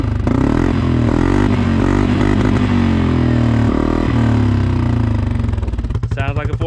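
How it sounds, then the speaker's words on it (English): A Can-Am 450 XMR fitted with a new HMF exhaust runs loud and close, its engine rising and falling through revs with a throbbing, clattery tone and uneven pulsing toward the end. "New HMF exhaust on the 450."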